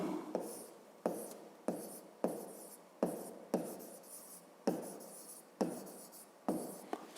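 Pen or chalk strokes writing out a fifth-grade math sum by hand, a regular series of about a dozen scratchy strokes, each starting with a sharp tap and fading, close and clear with no talk.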